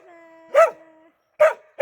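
A dog at a campground barks sharply three times, each bark short and loud, with a whine-like tonal hum before the first and brief silences between.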